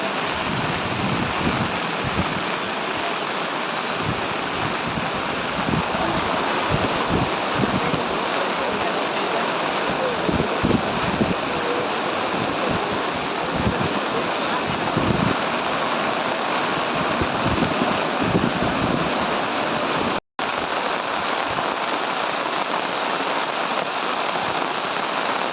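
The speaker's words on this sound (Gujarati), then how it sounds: "ગામે ધોધમાર વરસાદ 2 કલાકમાં" Heavy downpour drumming steadily on surfaces in Talangana village near Upleta, a dense unbroken roar of rain lasting throughout with a brief dropout near the end.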